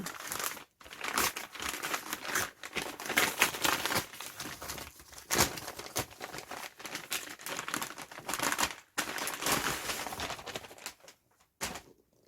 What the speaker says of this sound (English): Cue lots of rustling.